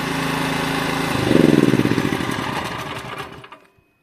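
A Kamatsu KS3800E petrol generator is started from its battery: the engine catches and runs loudly up close with a steady mechanical drone, surges briefly, then winds down and stops after a few seconds.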